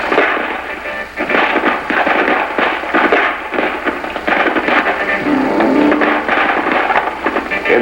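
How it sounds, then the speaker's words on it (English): Rifle squads exchange fire in a 1975 infantry training film, a continuous loud crackle of rifle shots and bursts overlapping densely throughout. "Team Bravo and second squad opened fire on the enemy"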